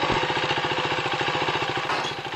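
A motorbike engine thrums in a fast, even, close pulsing beat, loud and steady without any voices.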